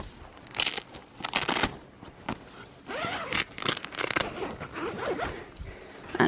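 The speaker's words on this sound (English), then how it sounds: "So the entry is velcroed, and then it's got the zip underneath it." The entry zipper of a Kathmandu XT North Star two-person tent, a snow-ready shelter, rasps open in several quick close pulls, mixed with crinkly fabric scrapes and rustling from the velcroed flap.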